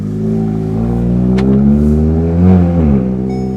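A Volkswagen Golf R fitted with new coilovers pulls away, its engine droning steadily and close with a low rumble that swells briefly as it accelerates, no voices over it.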